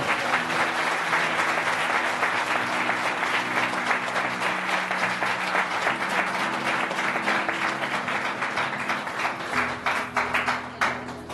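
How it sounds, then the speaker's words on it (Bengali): Sustained loud applause from a church congregation clapping for Jesus during a Bengali Easter sermon, a dense steady roar of many hands that thins slightly toward the end, with faint voices mixed in. "যিশুর জন্য জোরে করতালি দিই।"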